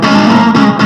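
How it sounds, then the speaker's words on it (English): An electric guitar runs through a delay pedal that emulates a Binson Echorec tape echo, producing a brief, loud, gritty sustained tone with short slapback repeats that thicken the note. "this is just a pedal that emulates that I use for more sort of slappy kind of thing"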